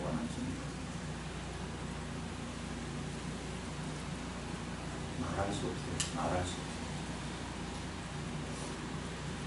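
Steady rain falls as a constant broadband hiss throughout, with a few brief louder patters midway, under someone speaking.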